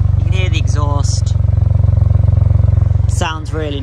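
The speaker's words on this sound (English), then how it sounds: "You can hear the exhaust." A Ford Puma ST with a 1.5-litre turbocharged EcoBoost engine and six-speed manual idles with a steady, throbbing exhaust pulse, loud and close, while someone talks over it.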